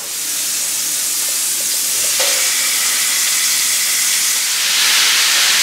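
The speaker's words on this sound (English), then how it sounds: "He's cooking a pork rib." Pork rib sizzling in a hot pan while being cooked for New Year in the Philippines, a loud, steady, close hiss of frying that continues throughout without a break.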